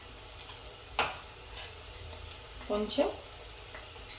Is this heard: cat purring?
no